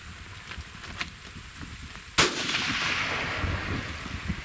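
A single rifle shot at a long-range ethical shooting challenge outdoors: one sharp, loud crack midway, followed by a lingering rumbling decay over steady background noise.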